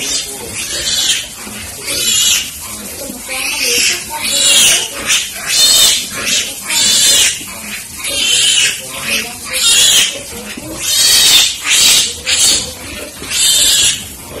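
Pigs in a fattening piggery grunt and squeal loudly and repeatedly, close by, in overlapping bursts that fill the whole stretch with barely a pause.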